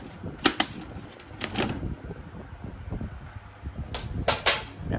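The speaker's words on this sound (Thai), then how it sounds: "นี่เปิดฝาด้านบนออกถ้าเราต้องการพับเก็บ" A plastic folding storage box is opened and folded, giving a few sharp plastic clicks and snaps in pairs amid soft rustling handling noise, close and moderately loud.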